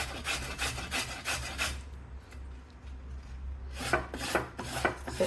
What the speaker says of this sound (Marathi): ही साल काढलेली हळद इथे किसून घेत आहे.